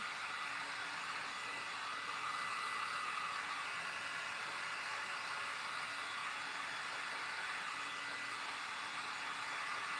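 Steady, loud blowing roar of a hair dryer drying paint on a patriotic-themed craft tray, continuous and unbroken close to the microphone for the whole stretch, with no voices.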